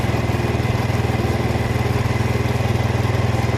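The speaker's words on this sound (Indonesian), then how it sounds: "Terus kita putar, mesin RPM menaik." A motorcycle engine runs close by during valve adjustment, a steady, evenly pulsing beat that holds a constant pace without any voices.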